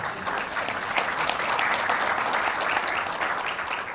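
An audience at a public talk held at a Best Buy claps steadily for a few seconds, a dense, even wash of hand claps with no voices over it.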